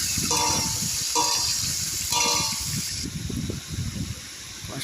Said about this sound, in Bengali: দিয়ে দিলাম আদা বাটা, দিয়ে দিচ্ছি সবজি। ভালো করে কষিয়ে নেব।